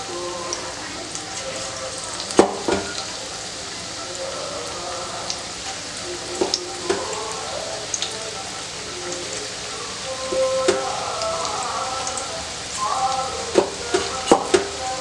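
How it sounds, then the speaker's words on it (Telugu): Onion pakoda deep-fries in hot oil over a medium flame, giving a soft, steady bubbling hiss broken by occasional sharper clicks and knocks. Faint tones run underneath. "నూనె ఇటు బాయిల్ అయ్యింది కాబట్టి ఆనియన్ పకోడీ వేసేసుకుందాం"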